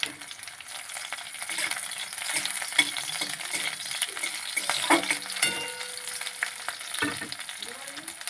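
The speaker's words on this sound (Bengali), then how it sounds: "এবারে দিয়ে দেবো কাঁচা লঙ্কা চেরা" Slit green chillies fry in a pan with browned onions, a steady close sizzle and crackle with occasional stirring scrapes and spatula knocks across the whole stretch.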